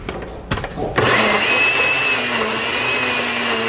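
A home blender grinding up bananas, starting with a few sharp knocks and then settling into a loud, steady motor whine with a rising pitch that runs to the end.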